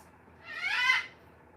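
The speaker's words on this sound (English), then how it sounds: "Yes, bird. Mama hears you." A pet bird gives one short warbling call, rising and fading over about half a second, close by in an otherwise quiet room with no voices.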